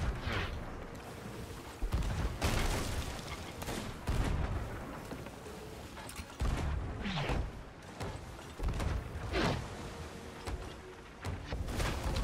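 Pirate ship cannons firing in a video game, a series of heavy booming blasts with whooshing impacts spread irregularly across the clip, loud and separated by quieter stretches of ambience.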